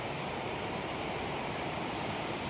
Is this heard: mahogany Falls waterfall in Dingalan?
yes